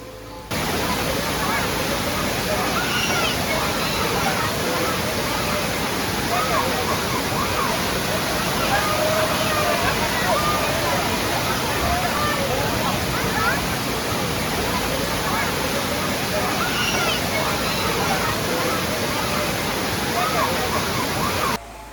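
A waterfall pours in a continuous, dense roar, loud and close, with faint voices and splashing mixed in.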